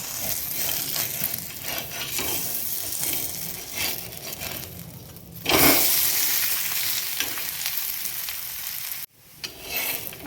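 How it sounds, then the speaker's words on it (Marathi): A thalipeeth made from bhajani flour fries in a pan with a steady close sizzle and some scraping, swelling louder briefly midway and dropping off sharply near the end. "आता आपण याला दोन्ही बाजूनी व्यवस्थित फ्राय करून घेऊ"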